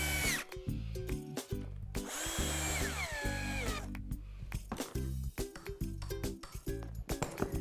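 A hand drill driving screws into a wooden kit, with repeated whirring bursts that rise and fall in pitch, short pauses between them, and close, loud clicks and knocks.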